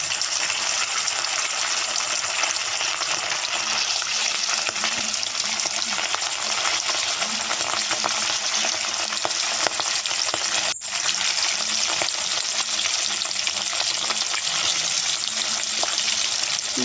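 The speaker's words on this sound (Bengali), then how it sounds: "মাছগুলোকে ভালোভাবে উল্টে পাল্টে আমরা ভেজে নেব।" Silver carp pieces fry in mustard oil in a wok, a loud continuous sizzle heard up close with a few faint clinks of stirring and one short break, no talking.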